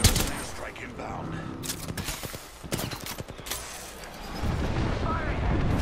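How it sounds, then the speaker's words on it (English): Explosions and gunfire in an Apex Legends match, a dense, loud roar of blasts and bursts filling the whole stretch, building again toward the end, with game voice lines over it. "There's an airstrike inbound."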